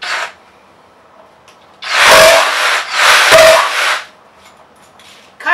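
A Kobalt XTR reciprocating saw cuts through wood in two loud, close bursts of about a second each, with a short pause between them and quiet before and after.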